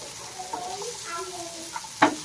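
Egg frying in garlic butter in a pan, a soft close sizzle with light stirring scrapes and one sharper utensil clink near the end.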